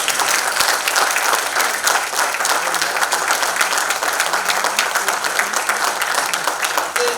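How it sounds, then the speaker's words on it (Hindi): Sustained loud audience applause at the Pride of the Nation Awards ceremony, dense clapping filling the whole stretch without letup. "थोड़ा इसके लिए भी ताली बजाएं।"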